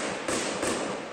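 Two sharp gunshots crack out about a third of a second apart, loud and echoing, during a shootout in a city neighbourhood, over a steady background hiss.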